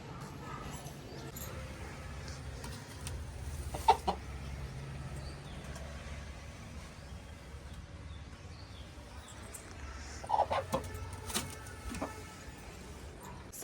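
A country chicken held under a basket gives faint, scattered clucks over a quiet low background hum.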